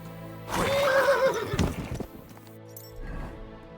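A horse whinnies loudly in a video game, Kingdom Come: Deliverance II, followed by hoof clatter and a few thuds, then a quieter rumble.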